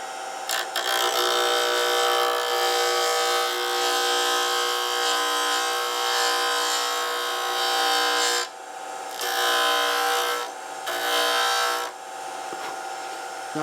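A powered lathe spins while a cutting tool takes a turned wooden centerband down to flat, giving a continuous high, scraping buzz close by. The buzz dips briefly a few times as the cut pauses and resumes.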